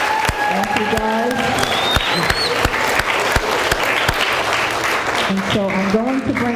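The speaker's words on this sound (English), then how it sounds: "Let's give them a round of applause." A school audience gives a sustained round of applause for the teachers who organized a student council event during a mayor's visit, loud dense clapping filling the room, with a voice speaking over it at the start.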